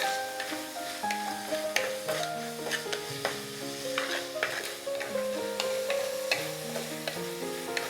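Onions with salt are stirred and sautéed in a pan, a continuous sizzle with frequent spoon scrapes and taps under background music.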